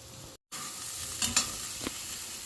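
Plantain slices frying with salt in a pan, an even close sizzle broken by a brief dropout early on, then a few light scraping stirs.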